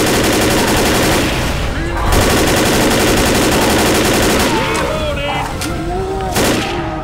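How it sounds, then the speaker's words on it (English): Sustained automatic assault rifle fire in Left 4 Dead, loud and continuous bursts filling the whole stretch with dense rapid shots, layered with game effects and growls from a tank enemy. "here's how strong the assault rifle is"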